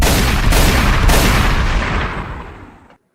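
A loud burst of gunfire, several rapid close shots blending into a booming roar that fades out over about three seconds.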